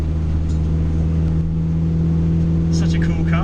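A car with a big-block engine swap, running untuned with lazy timing, drives along with a steady, deep engine rumble throughout, and a few faint voices come in near the end.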